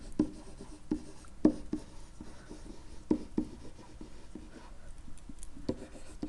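Pen strokes writing out math terms by hand on paper, irregular scratchy taps and short scrapes, close and fairly quiet, with no voice.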